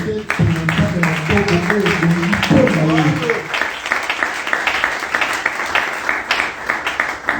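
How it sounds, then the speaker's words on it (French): Applause with cheering from a church congregation during a French-language sermon, rising after a stretch of voiced sound and continuing as a dense, steady patter of claps to the end. "Est-ce qu'on peut donner de bonnes acclamations pour nous?"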